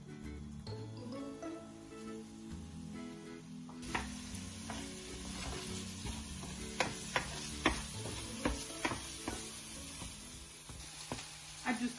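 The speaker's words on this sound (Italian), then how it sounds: "E fate cuocere i pomodorini tagliati qualche minuto." Cut cherry tomatoes sizzle in oil in a frying pan, a steady crackling hiss with occasional stirring clicks and scrapes, growing busier partway through, with no voices.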